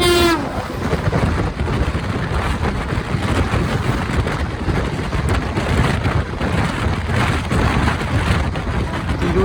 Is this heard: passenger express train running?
yes